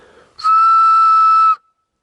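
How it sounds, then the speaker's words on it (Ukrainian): A single loud, steady, piercing whistle blown through a spent cartridge case lasts just over a second, pure and tonal, starting and stopping abruptly in near silence. "Ось так свистить гільза."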